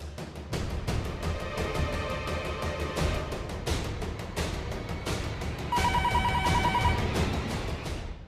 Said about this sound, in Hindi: दिन भर ये फोन बजता रहेगा